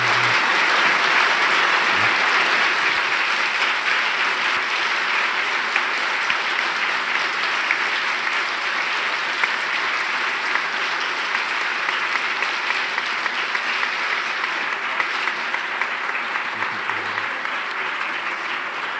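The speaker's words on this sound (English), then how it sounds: "I think we could go on applauding the whole afternoon." Sustained audience applause filling a lecture hall after a Nobel lecture in medicine in Uppsala, a dense, steady wash of clapping from many hands that holds at an even level throughout, with no voices over it.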